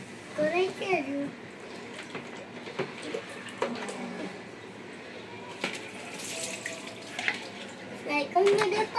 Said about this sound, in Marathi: सायकल मध्ये पाणीच पडतंय. खूप पाणी नको टाकू